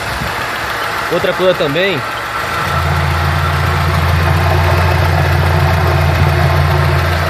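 Audi A3 1.8 20v engine idling with a misfire on cylinder 2, a steady low rumble with slightly uneven running, heard close after someone briefly speaks.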